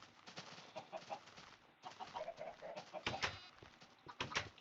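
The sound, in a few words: chickens clucking in Minecraft video game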